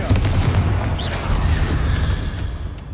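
A Confringo fire spell bursts in Hogwarts Legacy, a loud, sustained booming explosion with deep rumble and crackling fire that fills the scene for several seconds without letting up.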